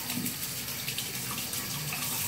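Running tap water pours steadily and fairly close while a badger shaving brush is rinsed, a continuous splashing hiss with no other sounds.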